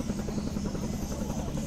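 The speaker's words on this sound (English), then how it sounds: "We're gonna have a little helicopter ride above the Festival of Speed and have a look at it from the air." Helicopter flying above the Goodwood Festival of Speed, its rotor making a steady, loud, close throbbing beat with no talk over it.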